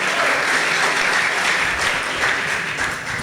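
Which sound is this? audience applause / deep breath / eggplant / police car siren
audience applause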